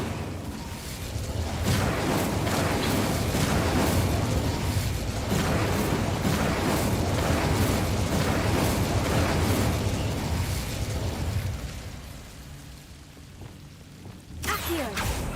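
Incendio fire spell in Hogwarts Legacy: a long, roaring burst of flame with crackling pops holds steady for several seconds, then fades down before a fresh sharp burst at the end.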